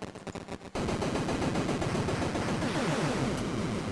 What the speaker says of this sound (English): all you have to do is stand right underneath him and just keep shooting upward, over and over and over